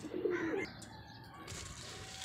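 Pigeons at a rooftop pigeon club give a few soft, low coos up close, loudest near the start, then fade into quiet background rustle and faint ambient noise.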